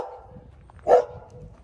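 A single dog bark near 0.9 s cuts through steady outdoor wind rumble, a short loud burst near the microphone during a bike build session.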